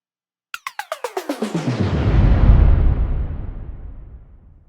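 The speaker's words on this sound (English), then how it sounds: "it's increasing the amount of reverb as our MIDI clip plays back" A Kontakt sampled instrument plays a MIDI line of quick repeated notes whose reverb is automated to grow. Clear, evenly spaced attacks blur into a swelling wash that peaks, then decays slowly into a long tail.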